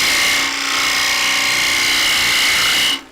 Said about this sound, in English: That chattering is me losing the bevel as I going in.